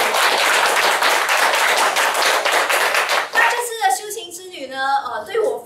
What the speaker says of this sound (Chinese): 所以给自己一个热烈掌声啊！